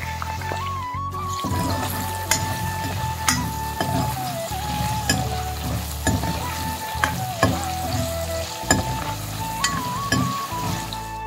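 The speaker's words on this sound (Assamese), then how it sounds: "আৰু এতিয়া এইখিনি ৰিফাইন তেলতে যিখিনি বিলাহী যে কাটি লৈছিলে এয়া, আৰু সেইখিনি এটা দি দিম ইয়াতে। আৰু বিলাহীখিনি অকমান ভাজি ল'ম।" Chopped tomatoes fry in refined oil in a kadai, giving a steady sizzle with repeated scraping stirs and clinks of a utensil against the pan, fairly close, with no talking.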